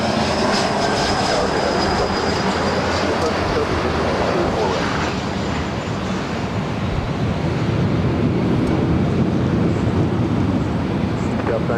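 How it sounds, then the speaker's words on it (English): Boeing 747-8 Intercontinental jet at LAX airport, a loud continuous roar of jet engines with broad rushing noise and wind buffeting on the microphone, steady throughout. "It's the 747-8 intercontinental plane, 10 years of age."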